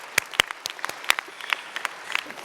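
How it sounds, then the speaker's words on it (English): Law school graduates applauding at a diploma ceremony, sparse and uneven claps from a thin group of hands, crisp individual strikes scattered over a quiet room. "So you can clap for yourselves"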